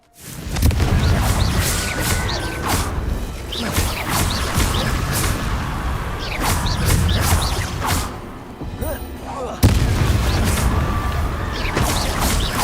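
Repeated Confringo fire-spell blasts in Hogwarts Legacy, sharp whooshing impacts and crashing bursts over a busy rumbling combat bed, with a voice speaking intermittently.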